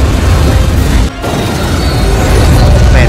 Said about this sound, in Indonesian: Venom lalu membelah tangki bahan bakar roket, yang membuat roket itu meledak